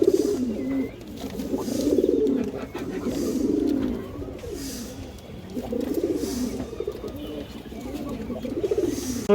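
A courting pair of pigeons coos nearby in repeated low, rolling bursts with brief pauses between them, quiet and close, with faint background noise.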